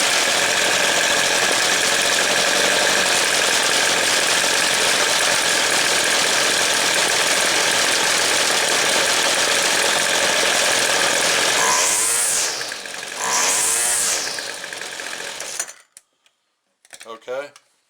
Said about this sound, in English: So I'm going to start it back up and I'm going to idle it down just a little more.